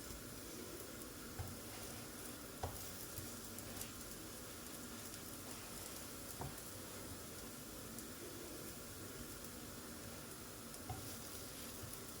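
Small harcha semolina bread rolls cook in a hot, dry pan with no fat, giving a steady soft sizzle throughout with a few faint clicks and taps, no voices.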